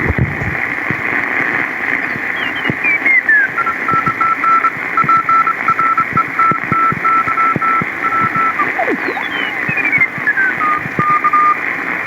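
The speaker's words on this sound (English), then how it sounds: "Here's an example of a couple of CW signals on the 40-meter amateur radio band." Morse code CW signals on the 40-meter amateur band through a Heathkit SW-7800 shortwave receiver: steady keyed tones with pitch sweeping as tuning shifts, over a constant hiss of band noise, loud and clear.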